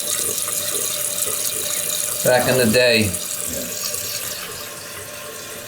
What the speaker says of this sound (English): And it's flushing.